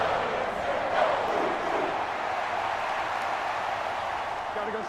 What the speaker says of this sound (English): A big play here as the crowd noise rises